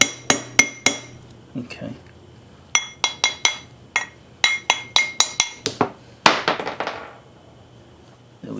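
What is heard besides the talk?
hammering down a hydraulic floor jack part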